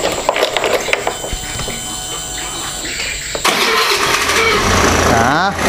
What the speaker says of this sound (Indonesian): Sekarang kita coba nyalakan motornya.